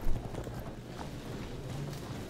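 Hooves of mounted horse archers clip-clop steadily across the ground in the strategy game Field of Glory II, a moderate, continuous trotting rhythm heard without talk.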